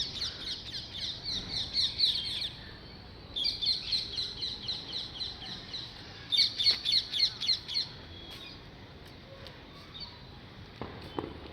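Bursts of shrill, rapid chattering and squawks from parrots and mynas come in three clusters, fairly faint over quiet outdoor ambience with a few light knocks.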